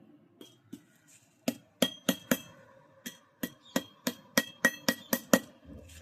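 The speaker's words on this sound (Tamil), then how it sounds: "ஹெவியான பக்கிள்ஸ் பார்த்தீங்கன்னா 4mm பக்கிள்ஸ் வச்சு அடிக்கிறோம்." Heavy 4mm metal buckles hammered by hand onto a 2-inch canvas belt: a run of about a dozen sharp, ringing strikes in an uneven rhythm, close and loud, with quieter taps at the start.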